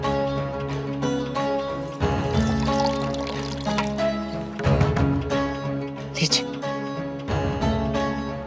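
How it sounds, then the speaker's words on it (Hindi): Water poured out for someone to drink, heard as a running trickle under background music and voices in a domestic drama scene. "हम आपको पानी पिला देते हैं"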